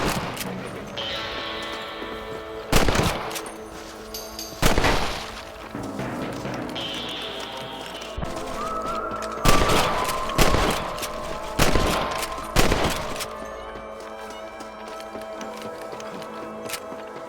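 Rifle shots at rabbits in Red Dead Redemption, about seven sharp single cracks spaced a second or two apart over quiet ambient music, with someone talking between shots.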